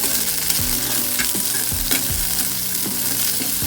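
Onions sizzle steadily in hot oil in a pan for mushroom curry, with repeated scraping stirs of a spoon at irregular intervals over the frying, no voices.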